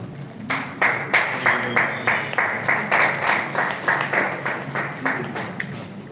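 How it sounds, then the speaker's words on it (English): An audience clapping in unison to a steady rhythm, with roughly two claps per second sustained for several seconds, close and fairly loud, no talking. "I think you clap to that."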